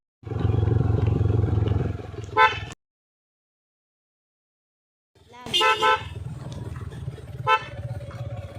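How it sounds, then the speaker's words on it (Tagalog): Two loud, sustained car horn blasts sound on a narrow, winding road near Bauan, Batangas, separated by a few seconds of silence. Each one holds steady before stopping. "dapat always kang magbubusina kasi kapag yung mga may liliko"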